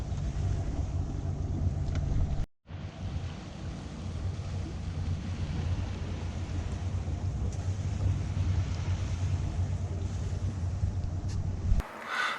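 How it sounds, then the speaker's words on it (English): A Hallberg-Rassy 54 sailboat motoring under engine at sea, giving a steady low drone with wind and water rush throughout, loud and continuous with a brief dropout early on. "We are motoring again."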